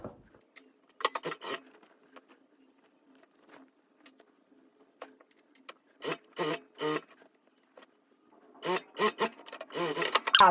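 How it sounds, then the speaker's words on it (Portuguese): A sewing machine runs a straight seam on viscose fabric in short, separate bursts of rapid stitching, fairly faint, with quiet gaps of near silence between runs. "agora eu vou fazer uma costura de reta aqui unindo"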